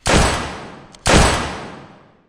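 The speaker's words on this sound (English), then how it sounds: "Once there, Philip pulled the trigger." Two loud gunshots, about a second apart, each booming and echoing away into a long fading reverberation.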